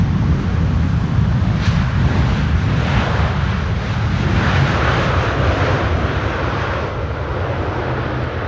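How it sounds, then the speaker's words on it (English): A China Airlines Airbus A350 arriving at Amsterdam Schiphol Airport on a windy day, its engines a loud, steady, broadband roar with a deep rumble that holds for the whole stretch and eases only slightly near the end. "an A350 from China Airlines, arriving from Taipei"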